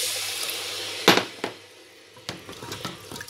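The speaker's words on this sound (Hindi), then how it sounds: "अब मैं इनके अंदर पानी 1 कप पानी डालूँगी" A cup of water is poured into a hot pan of roasted black chickpeas, giving a sudden splash and sizzle followed by softer bubbling and spattering. The sounds are close and moderately loud, and no one speaks.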